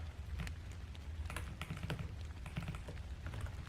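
Soft, quiet typing on a computer keyboard with switches that have bounce issues, a continuous patter of key clicks over a low room hum, no talk.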